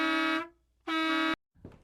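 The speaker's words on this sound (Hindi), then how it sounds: "उन्हें अपने बेटे की गाड़ी का हॉर्न सुनाई पड़ा।" Car horn honking outside a house, two loud sustained blasts with a short gap between them, followed by a faint brief noise.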